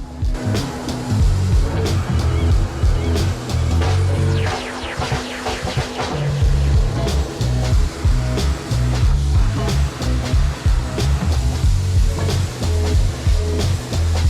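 Loud, steady hissing pressure washer spray with surging water splatter, continuous and close, rising and falling as the jet rinses mud off a truck's underside.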